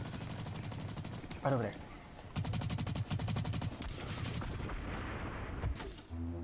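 Rapid automatic gunfire and sharp sniper shots ring out in the shooter game Blacklight Retribution, coming in loud bursts and single cracks with rattling volleys, while a player talks briefly over the action.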